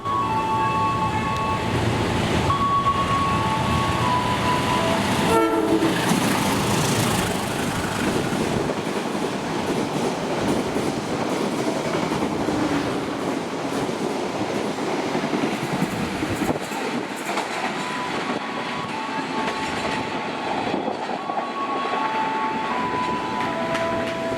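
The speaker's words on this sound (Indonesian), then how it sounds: "Kemudian kereta api Argo Bromo Anggrek 2" The Argo Bromo Anggrek passenger train rumbles past close by, with a loud, continuous roar of wheels clattering over the rails and a brief horn-like tone near the start.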